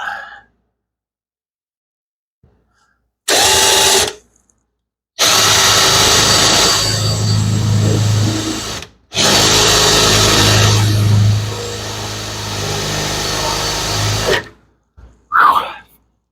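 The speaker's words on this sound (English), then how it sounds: "I think I smoked my drill bit." A power drill runs in several loud, close bursts separated by short silences during car work, the motor whining as the burnt-out bit bores in.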